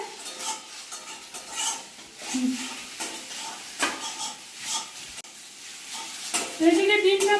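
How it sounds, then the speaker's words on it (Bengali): Egg scrambled in a pan for a dal chorchori with potatoes, a close sizzle under repeated scraping and stirring strokes of a spatula, getting louder toward the end. "ডিমটা এভাবে ঝুরি করে নিতে হবে"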